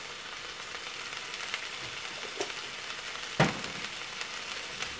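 Peppers simmering in a pan with black pepper, curry and herbes de Provence, giving a soft, steady sizzle with a few light clicks and one sharper clatter near the end, quiet and close with no voices.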